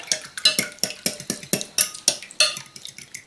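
Eggs for a quiche being whisked in a bowl: a brisk, regular series of about a dozen clinking strokes of the whisk against the bowl, close and clear, with no voice.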